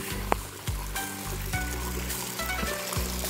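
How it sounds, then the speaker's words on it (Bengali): Hill stream water trickling and dripping down over rocks, a continuous splashy wash broken by a few sharper knocks and plops, fairly close. "তাই চুয়ে চুয়ে পানি পড়া"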